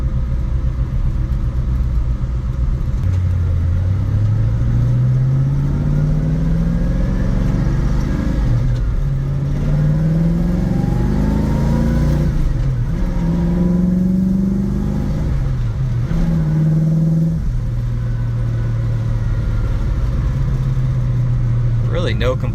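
A 1966 Ford Mustang engine hums and drones while the car drives, its pitch climbing through several gear shifts, and someone talks over the steady road rumble.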